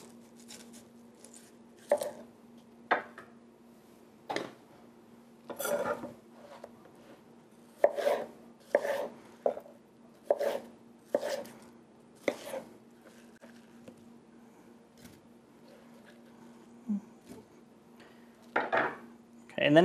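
A small knife cuts through a watermelon to be sliced into triangles, producing a dozen or so sharp, separate chops and taps on a board at an irregular pace, with short quiet gaps between them.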